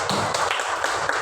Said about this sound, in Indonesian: Oke, tepuk tangan untuk Ulfa.